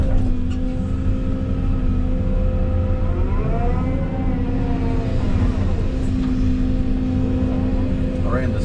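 A skid steer working a stockpile of dirt, its engine droning loud and steady with a whining hydraulic pitch that rises and falls as the bucket loads.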